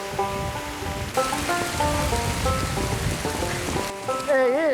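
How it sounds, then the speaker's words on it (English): Rain patters steadily around a campsite, a dense hiss of drops on surfaces heard close, with sustained tonal sounds layered over it and a voice briefly rising near the end. "This rain is doing my head in now."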